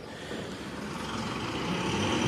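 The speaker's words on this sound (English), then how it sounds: "Got a little bit of noise in the background. It's a rubbish truck." A rubbish truck rumbles steadily in the background on a public holiday, a continuous low engine drone and broadband roar that swells slightly louder toward the end, with no voices over it.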